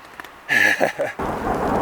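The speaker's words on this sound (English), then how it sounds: "Oh, there's lightning right overhead." Thunder from lightning right overhead during a severe storm on the Superior Hiking Trail, a sudden loud crack that breaks into a rumbling roll, with steady rain hissing underneath.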